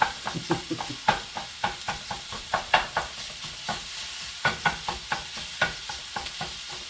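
Crumbled sausage browning in a hot skillet for sausage gravy, a steady sizzle punctuated by repeated sharp spatula chops and scrapes at an uneven rhythm, close and moderately loud with no talking.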